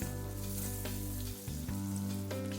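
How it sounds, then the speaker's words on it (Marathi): Ground coriander, chili powder and two green chilies sautéing in oil for chana dal zunka, a loud, close, continuous sizzle with a brief dip and a few stirring scrapes, no talk. "हे तेलामध्ये थोडंसं 10-20 सेकंद परतून घेते."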